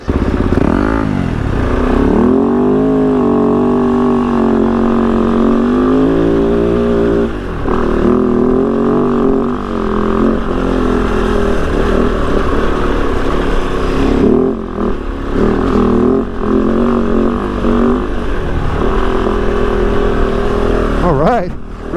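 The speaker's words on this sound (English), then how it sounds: "Riding the Kove 450 rally for the first time. Doing some whoops and nice curves." A 2023 Kove 450 Rally motorcycle engine loud and close as it rides through whoops and curves, revving up and down steadily with rising and falling pitch, wind rush and occasional clatter, a voice briefly heard over the engine.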